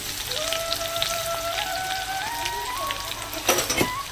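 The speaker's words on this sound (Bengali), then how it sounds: "পেঁয়াজ কুচিটাকে ভালো করে লাল করে ভেজে নেবো" Continuous crackling sizzle of onions frying in oil, with a thin whistling tone above it and a brief burst of louder spattering near the end.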